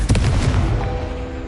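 A Confringo spell explodes in Hogwarts Legacy on PS5, a loud booming blast with a sharp onset and crackling burst that rumbles on and fades, with a faint tonal ring underneath.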